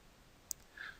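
A computer mouse clicks once while formatting tabs in MS Word. The single sharp, close click is quiet and isolated in a near-silent room, with a faint rustle just after it.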